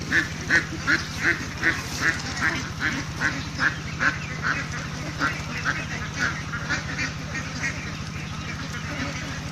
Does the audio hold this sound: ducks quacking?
yes